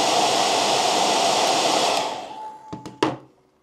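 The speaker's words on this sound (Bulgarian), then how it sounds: "Сега, ако го му духна с сешоара" A hair dryer blows steadily and loudly at a humidity controller for about two seconds, then cuts off and winds down, followed by a few sharp clicks.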